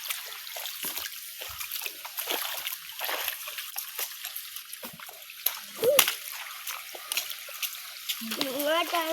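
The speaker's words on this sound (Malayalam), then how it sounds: "ഇവിടെ നിന്ന് ഇങ്ങനെ ഒരു കുഞ്ഞു വെള്ളച്ചാട്ടമാണ്, അവിടെ നിന്ന് വരുന്നുണ്ട് വെള്ളം." Water trickles and splashes at a small cold-water waterfall, a faint, continuous bubbling with scattered splashes up close, and people talking over it now and then.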